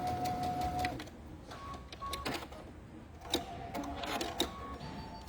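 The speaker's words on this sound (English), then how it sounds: "I'm sewing all the way from one end to the other end" A sewing machine pieces a quilt block in short bursts of rapid mechanical whirring and ticking, quiet and close, with brief pauses and clicks between runs of stitching.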